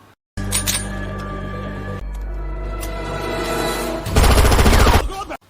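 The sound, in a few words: pistol gunfire in action film scene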